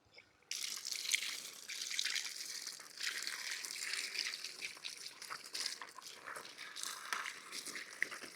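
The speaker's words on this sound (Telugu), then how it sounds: "ఈ దొండకాయలని బాగా కడిగేసుకొని పక్కన పెట్టుకుందాం." Ivy gourds (tondakaya) washed by hand under running tap water in a kitchen, a steady gushing splash with shifting rustle and dripping, close and moderately loud for the whole stretch.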